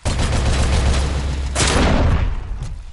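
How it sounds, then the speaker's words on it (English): Grenade explosions and gunfire in the video game RoboCop Rogue City, dense loud booming blasts and rapid shots rolling together, with a heavy burst midway and a fading tail. "il met des grenades maintenant"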